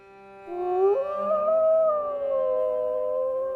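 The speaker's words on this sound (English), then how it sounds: "a howl was heard in the distance" A dog howls in one long, rising then wavering cry, fairly distant and alone, holding for several seconds.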